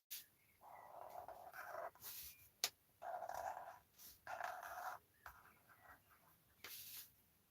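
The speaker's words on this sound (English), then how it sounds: "There's some neighbour's dog that can hear me through the through this roof, and it's just constantly barking at me." A neighbour's dog barks repeatedly through a roof, producing a series of muffled, evenly spaced barks separated by short pauses, distant and dull rather than sharp.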